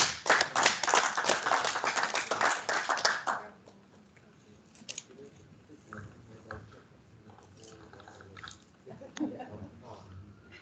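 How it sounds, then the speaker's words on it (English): An audience at an exporter awards ceremony claps in a short, lively burst of applause lasting about three seconds, then the room falls to quiet rustling and faint murmurs. "A round of applause for Far East."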